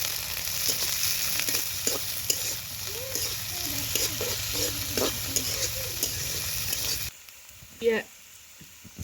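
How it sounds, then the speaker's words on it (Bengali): Onions, green chilies and raw garlic sizzle and hiss steadily in a hot pan as a spoon stirs and scrapes through them, then the frying drops off abruptly near the end, leaving a brief clatter. "পেঁয়াজ, মরিচ, কাঁচা রসুন সব হালকা ভাজা হয়ে গেছে"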